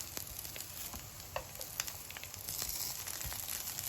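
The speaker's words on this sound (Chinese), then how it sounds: "煎至定型后，我们给它依次翻个面。" Eggplant cakes sizzle in oil in a flat pan, a soft, quiet frying crackle with a few scattered pops and light scraping, steady throughout with no voices.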